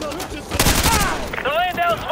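Gunfire in the video game Call of Duty Advanced Warfare: loud, close bursts of shots blending with shouted combat voices over a short, dense stretch.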